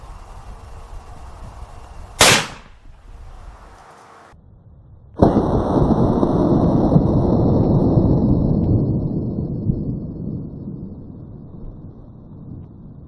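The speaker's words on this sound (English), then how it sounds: "What are we shooting today? 44 Magnum. These are the Winchester jacketed soft points, and shooting at about 50-ish yards." 44 Magnum gunshots with Winchester jacketed soft point rounds fired at a target about fifty yards away: one sharp loud crack, then after a pause a second heavy blast with a long rumbling decay, both close with no talk.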